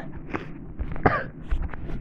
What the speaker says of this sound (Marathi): मला खोकला आलाय म्हणून खोकला ही सर्दी आली आहे